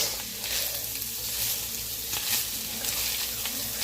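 Beef and mushrooms sizzle steadily in a cast iron pan, a loud, continuous broadband fry with small crackling bursts throughout and no talking.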